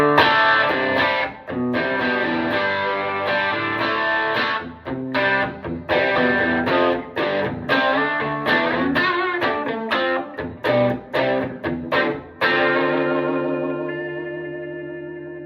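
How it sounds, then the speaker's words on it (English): An electric guitar through a hot humbucker bridge pickup and an amp at light breakup plays a rhythmic run of chords and notes, thick and sustained, ending on a long ringing chord; no voices. "If I go to my bridge pickup, again, this is a fairly hot humbucker here, but I can for sure get into that light breakup"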